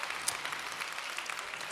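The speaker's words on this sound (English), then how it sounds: "Just notice our students are the only one not clapping right now" An audience claps in a church service, a steady patter of many hands heard at moderate distance for a short stretch.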